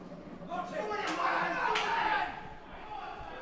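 Crowd cheering in the background at a Scotland versus England men's team event during a European Championships match, a muffled swell of cheers and shouts rising for about two seconds under nearby speech.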